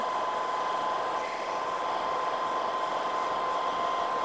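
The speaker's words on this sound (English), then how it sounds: "normal, regular hairdryer here. I'm going to put it on a low heat setting." Ordinary hairdryer on a low heat setting blowing over a piece of coloured wood, a steady, loud, unbroken whoosh with a faint tonal whine running throughout.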